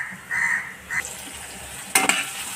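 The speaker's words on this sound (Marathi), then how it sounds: "त्याला आता परतून घेतलेत आपण बटाट्यांना ह्यामध्ये" Potatoes and clams are stirred in a pan, with a soft sizzle and scraping of the spoon against the metal, a sharper clatter near the end, and no talk.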